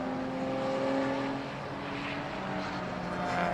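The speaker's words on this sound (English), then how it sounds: "Leader coming down towards Club. There's one of the BMW Z3s." Racing cars, one a BMW Z3, roar steadily toward Club corner at a circuit race, a sustained loud engine drone with rising and falling revs throughout.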